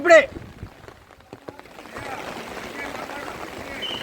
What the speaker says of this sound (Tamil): மழை பெய்து கொண்டிருக்கிறது